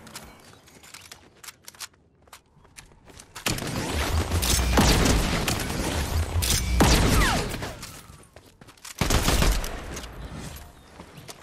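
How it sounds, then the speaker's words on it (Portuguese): Video game gunfire crackles in bursts of rapid shots, loud and close from about 3.5 to 8 seconds and again near 9 seconds, with quieter sporadic shots and mechanical clicks in the gaps. "Foi meu tiro de outro lado ou foi meu bot atirando?"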